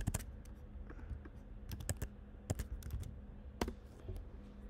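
Quick, irregular clicks of someone typing on a computer keyboard at a terminal, several close, crisp keystrokes in short bursts over a quiet background.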